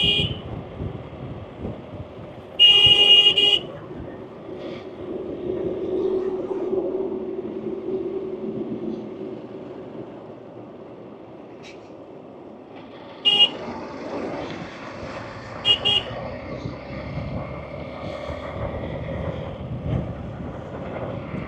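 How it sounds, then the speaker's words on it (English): A Hero X-Pulse 200cc motorcycle's horn toots in short bursts, one early and a couple more later, over the steady drone of its engine and passing traffic on a mountain road. "You honk once, twice, they see you in the mirror"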